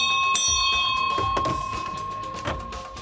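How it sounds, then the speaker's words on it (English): Genuine ship's bell on a backyard pirate ship play structure, struck several times with a bright ringing tone that sustains and slowly fades. "Oh, we have a genuine bell."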